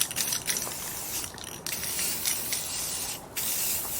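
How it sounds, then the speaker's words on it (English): Short hissing bursts of an aerosol can of Color Shot black matte spray paint coating a hula hoop, pulsing on and off in quick strokes, close by with a faint rattle between passes. "I'm using this Color Shot black matte paint, and we're going to spray the entire thing."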